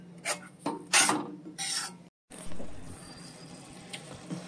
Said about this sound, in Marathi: तेव्हा मी आता परततो.